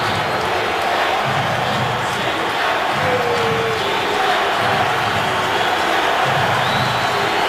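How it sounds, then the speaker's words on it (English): Fans at an NFL football game between the Browns and Broncos boo a bad call, a broad sustained crowd roar at a distance, with a commentator's voice over it. "You got to agree with all the fans booing."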